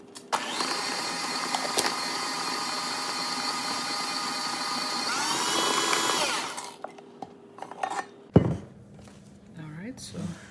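An electric mixer whirs loudly and steadily while whipping buttercream for a dulce de leche caramel cake, then winds down and stops, followed by quieter bowl and utensil knocks.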